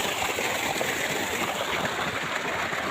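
Shallow stream water running over moss, a steady, continuous rushing hiss that stays even throughout, close by, with no talk.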